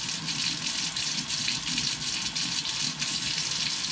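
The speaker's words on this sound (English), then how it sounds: "I'm just going to touch it against the stream of the faucet" A steady stream of water runs from a sink faucet into the basin, a continuous close hiss and splash at even volume with a metal spoon touched against the flow, and no talking.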